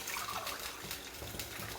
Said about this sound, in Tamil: 1/2 டம்ளார் தண்ணியும் ஊற்றிருக்கேன்